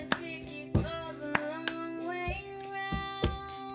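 A second-grade hand-clapping game: sharp hand claps and flat taps on a table in a quick repeating pattern, close and fairly quiet, with scattered single hits between short pauses.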